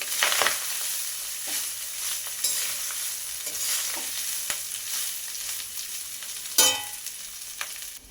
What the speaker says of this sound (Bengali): অল্প অল্প ভাত দেওয়ার পর তারপর এটাকে নাড়তে থাকতে হবে